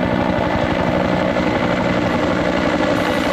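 A helicopter's rotor thuds in a fast, steady beat, loud and close, with a continuous engine whine and no other sounds.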